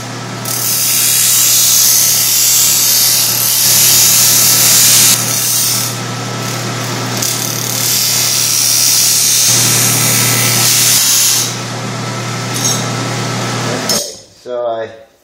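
A high-pitched power tool whines loudly at close range while grinding and cleaning up pieces for a cyclekart steering wheel, running in long bursts with brief pauses, then a clatter as it stops.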